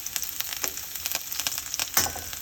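Garlic and ginger frying in a pan over medium heat, a close steady sizzle with crackling pops and a brief stir toward the end.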